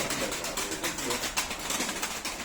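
Pigeons readied for flying coo and flap their wings close by, a dense, continuous rush of fluttering and soft cooing with no speech.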